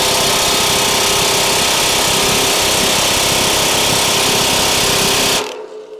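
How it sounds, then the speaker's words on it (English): Pneumatic rattle gun hammering at a bolt on a Morris seeder tine, a loud continuous buzzing rattle up close that runs steadily for about five seconds and then cuts off abruptly, leaving faint background. "the first thing we're going to do is get the rattle gun onto here and get this bolt out."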